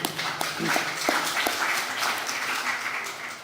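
Audience applause at a climate action conference on Africa, a dense steady wash of many hands clapping that carries on for a few seconds, close and fairly loud.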